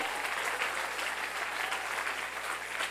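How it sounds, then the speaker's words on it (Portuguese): A church audience at a worship school session applauds with a thick, even wash of clapping that holds steady, fairly distant and soft, with no speech over it. "Pode aplaudir"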